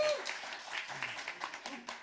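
Sparse clapping from a small audience at a talk or gig, a thin scattering of hand claps rather than a full roar, with some vocal murmur mixed in over roughly two seconds.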